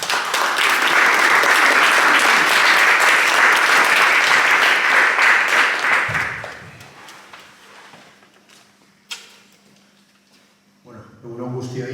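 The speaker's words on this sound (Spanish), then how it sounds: "Un forte aplauso." Loud, dense audience applause at an education event on linguistic diversity fills the first six seconds, then fades to quiet room noise with a brief knock and a voice starting at the end.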